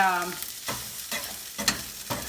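A spoon stirs quinoa and kale pesto in a pan with a soft sizzle beneath, four or five scraping strokes at a steady rhythm, close and fairly quiet.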